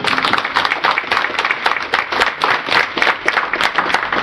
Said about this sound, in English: Let's have a round of applause for those